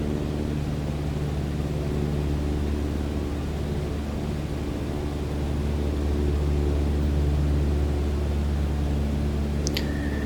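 A Cessna 152 descends in Microsoft Flight Simulator 2020, a steady, loud, droning propeller engine hum with broadband wind noise, unchanging throughout, ending with a brief high electronic tone.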